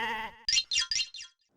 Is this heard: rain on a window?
no